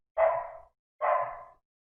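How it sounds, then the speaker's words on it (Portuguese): A dog barks twice, a pair of loud, close, evenly spaced barks, with nothing else around them. "Ó, minha cachorra latindo aí."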